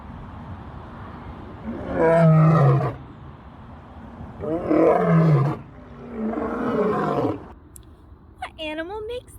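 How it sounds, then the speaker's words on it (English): A lion roars in three long, loud, rumbling bursts, each a couple of seconds long with short pauses between them, followed by a brief higher-pitched vocal sound at the end. "Let's make the sound of a lion together."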